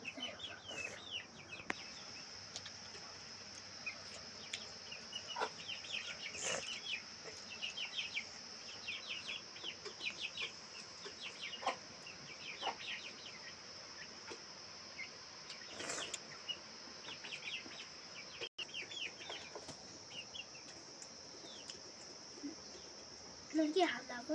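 Chickens cluck in a rural village in short scattered calls that come and go faintly over a steady insect drone, with people talking intermittently nearby.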